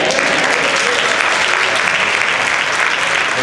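A church congregation at a pastor's installation service applauding the singers, loud and sustained clapping from a large crowd, steady throughout with faint voices mixed in.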